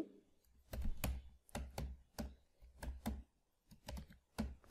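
Someone types code on a computer keyboard in short clustered bursts of clicky keystrokes separated by brief pauses, close up and fairly quiet, with no talking.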